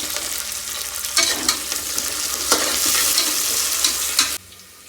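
Masala for mutton biryani fries in a pan with a loud, steady, close sizzle, broken by several scraping stirs, before it cuts off sharply near the end.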